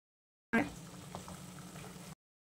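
Ground masala paste with water frying in a pan for spicy misal, a short burst of bubbling sizzle that starts sharply then settles into a softer steady simmer with faint pops.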